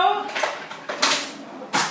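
A utensil scrapes and clinks in a pot with hot spicy olive oil while cooking white chicken chili, several short stirring scrapes with speech between them.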